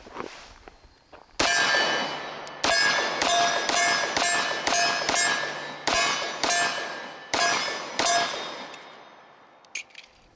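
Handling an 11-round Mecgar magazine and a cast-frame Iver Johnson Hawk Commander 1911 pistol, a series of about ten sharp, ringing metallic clangs at a steady pace, each decaying quickly, followed by a few softer clicks.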